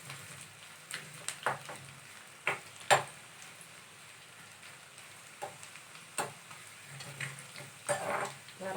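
Roasted spice mixture sizzling in a pan for an onion sambar, a soft, low crackle broken by scattered sharp ticks and stirring scrapes, with no talking.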